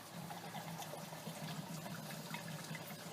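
Antifreeze coolant drains steadily out of a 1999 Pontiac Grand Prix engine during belt tensioner work, a continuous low trickling and splashing of liquid that stays at an even, fairly quiet level with no talking.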